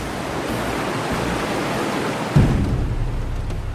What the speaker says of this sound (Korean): 관광 명소인 이구아수 폭포는 지구상에서 가장 웅장한 폭포 중 하나로 쏟아지는 물의 엄청난 힘을 느낄 수 있습니다